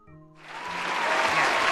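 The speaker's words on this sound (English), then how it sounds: "I forgot all about the applause" A recorded applause sound effect played from a file, starting abruptly after a brief tonal sound and swelling into a dense, steady crowd clapping that grows louder toward the end.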